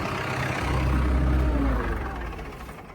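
International 1468 tractor engine running nearby, a loud low rumbling idle that swells and then eases off over a few seconds.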